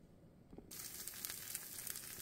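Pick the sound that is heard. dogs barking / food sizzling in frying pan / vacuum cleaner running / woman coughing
food sizzling in frying pan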